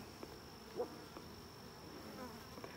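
Honeybees buzz around an opened Layens hive, a faint steady hum with a few brief louder passes of individual bees close by.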